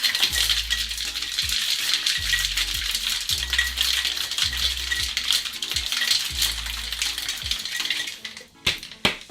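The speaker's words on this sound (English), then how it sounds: "put your lid on, give it a bang, nice and secure, and I'll shake it for 10 seconds" A lidded cocktail shaker packed with ice is shaken hard and close, rattling in rapid rhythmic clacks for several seconds before a few final knocks.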